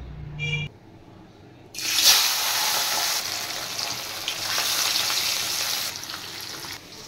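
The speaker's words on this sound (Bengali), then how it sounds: "মাছ ভাজা হয়ে গেছে" Katla fish, coated in turmeric and salt, frying in hot oil in a home kitchen, a loud steady broadband sizzle that starts after a short pause and continues for several seconds.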